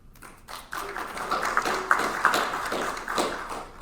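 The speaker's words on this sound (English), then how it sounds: "That was a clap for everybody" A crowd at a VCU School of Education convocation ceremony bursts into clapping, a dense patter of hands that starts after a brief quiet moment and holds steady at moderate volume, with no talking.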